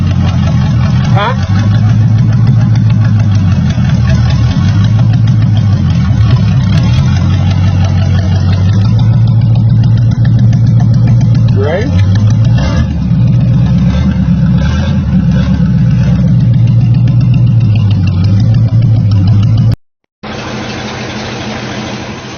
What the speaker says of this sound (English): Getting ready to go in the pickup truck.